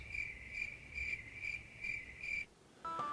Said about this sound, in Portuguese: Dava pra ouvir os grilos.